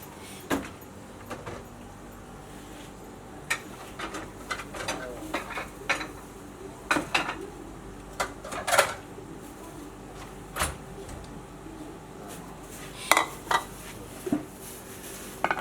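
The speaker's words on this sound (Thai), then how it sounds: "ตักใส่ถ้วยไปด้วย" Metal utensil scraping and clinking against a pot while baked sticky chicken is ladled into a bowl, a string of sharp irregular knocks and scrapes with quiet pauses between them, close by and moderately loud.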